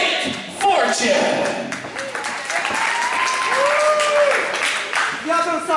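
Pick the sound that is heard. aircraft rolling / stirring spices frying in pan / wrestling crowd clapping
wrestling crowd clapping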